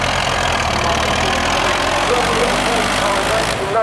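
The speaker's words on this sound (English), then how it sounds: "4-cylinder diesel engine, Sabre frame, driven to the step nicely." A four-cylinder diesel tractor engine in a showground arena parade runs at a steady, loud idle, throbbing low and continuous throughout.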